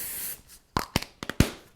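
Stick-and-spray adhesive is sprayed onto an acrylic rocker block for mounting a flower stamp, heard as a few short, sharp aerosol bursts after a longer initial hiss, close and fairly quiet with no talking.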